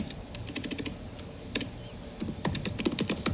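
Quick, fairly close clatter of a computer keyboard being typed on, bursts of keystrokes broken by short pauses, with no voices.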